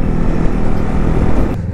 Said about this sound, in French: Et ça pétarade bien.